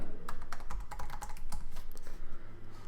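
Fingers tapping out a search query on a computer keyboard, a steady run of quick close clicks and key presses with no talking.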